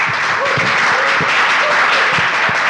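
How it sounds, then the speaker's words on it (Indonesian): Loud, dense applause from a large crowd at a Nahdlatul Ulama religious gathering, honoring the Muslimat women's group, continuous clapping close and full throughout. "beri tepuk tangan untuk muslimat"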